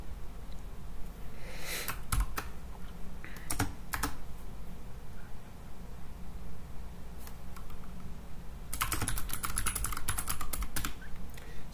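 Keys clack on a computer keyboard during a Linux terminal session in bursts of rapid typing, with a short flurry near the start and a denser run near the end, close and alone over a quiet room.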